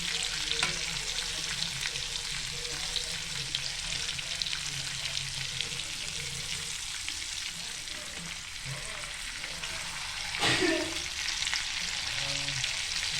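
Continuous sizzling of chicken frying on a hot griddle, with a brief clatter of turning partway through and no talk.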